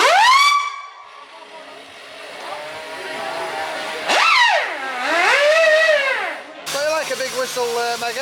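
A steam engine's whistle at the Barnard Castle Steam Rally 2023 sounds in long sustained toots, loud and close, its pitch bending and wavering against a hissing, rumbling engine background.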